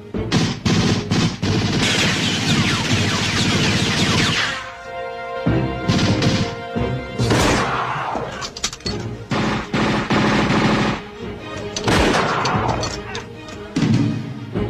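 Gunfire erupts in a shootout from an action film: loud, dense bursts of rapid shots and crashing impacts that come in waves, with shouting voices between and over them.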